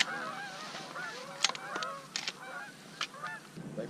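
A flock of Canada geese honks repeatedly during a goose hunt, with overlapping calls close by and a few sharper honks standing out, over quiet background noise.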